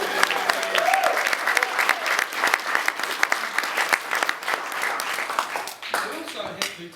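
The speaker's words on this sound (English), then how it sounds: "So a round of applause again for the bride." Wedding guests break into sustained, lively applause for the bride, a dense crowd of clapping hands filling the room for several seconds before tapering off.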